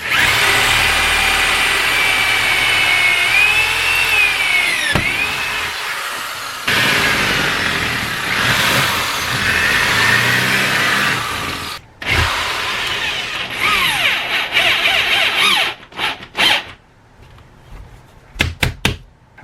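A power drill grinds and strains as it bores holes through marble coping on a mini halfpipe, loud and close, with pitch shifts under load before it breaks into intermittent bursts and stops.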